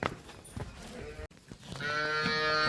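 A pregnant dairy buffalo lows. A long, loud, tonal call swells up after some brief rustling and handling noise.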